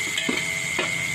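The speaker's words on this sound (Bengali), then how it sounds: "তারপর দেখুন এবার খুন্তি দিয়ে আস্তে আস্তে একটু নেড়ে নিল, খুব সুন্দর করে নাড়ছে।" A spatula gently stirs frying spice masala in a pan for a live magur catfish curry, with two soft scraping strokes over a steady sizzle.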